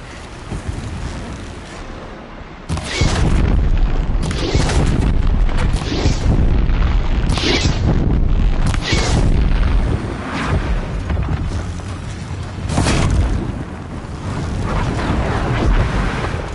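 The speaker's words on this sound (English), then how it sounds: "Explosions" Explosions in the video game Horizon Zero Dawn rumble and boom in heavy, sustained bursts, with loud blasts recurring throughout a dense, roaring background.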